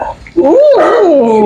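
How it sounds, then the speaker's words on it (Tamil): A dog letting out a loud, close, drawn-out whining bark or yelp lasting about a second, with no talk over it. "அது நாய் கத்திய சவுண்ட்."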